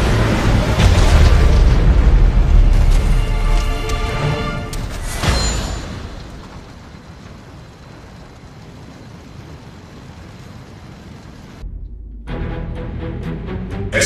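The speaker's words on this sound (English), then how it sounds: "Nuclear weapon launched." A nuclear weapon detonates in the strategy game C&C: Rivals, a loud booming blast with a rumbling low-end roar that fades into a long subdued tail before another burst of sound.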